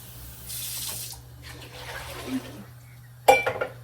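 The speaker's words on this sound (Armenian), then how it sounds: "այստեղ ջուր կլցնեմ" Water runs from a tap into a container in short bursts, a steady hiss with pauses, ending in a few sharp clinks.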